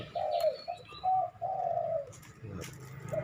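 A spotted dove coos nearby in a soft rhythmic phrase of several low, hollow notes, clear and alone against a quiet background.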